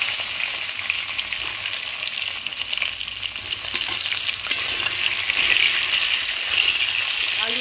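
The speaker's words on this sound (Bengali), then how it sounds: "আলু আর বেগুনটাকে একটু ভাজা ভাজা করে নিতে হবে।" Potatoes and eggplant fry in oil tempered with black cumin seeds, a steady close sizzle with occasional stirring, as for a Bengali fish curry with potato and eggplant.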